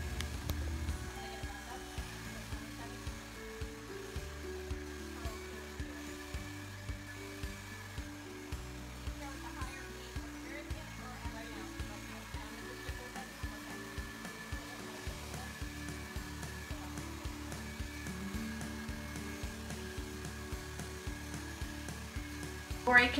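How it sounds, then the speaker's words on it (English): Hair dryer blowing during a salon blowout with a round brush, a steady whirring airflow that pulses and shifts in rhythm as it is moved around the head, fairly faint throughout. "She hits it with the hot air, and then she hits it with the cold air to lock in that last little curl"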